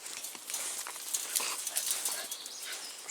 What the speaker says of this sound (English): The other dogs are coming out.